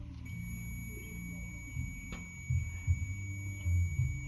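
A digital multimeter's thin, continuous high continuity-test tone holds steadily throughout, faint beneath low rumbling handling noise and a few soft thumps.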